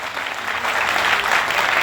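Audience at a program in Ahmedabad breaks into loud, sustained applause, a dense even wash of clapping filling the whole stretch with no voices over it.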